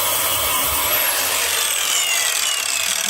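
Burnt, charred clutch friction material being scraped off the flywheel of an LT4-swapped 1967 Chevy C10, a loud, continuous, harsh abrasive rasp that holds steady throughout without pause.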